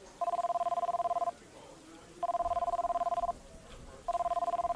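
A cell phone rings in a restaurant in three clear electronic bursts separated by short pauses, loud and near over faint room murmur.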